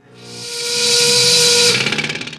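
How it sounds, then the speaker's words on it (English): A loud, breathy tugboat steam whistle swells and holds, then breaks into a quick fluttering pulse as it fades out. "A tugboat sound."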